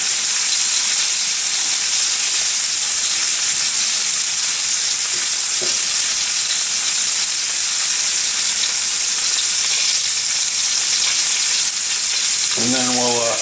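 Mushrooms cook down in a hot pan with a loud, continuous close-up sizzle and hiss that runs unbroken throughout, with a brief stirring scrape near the end.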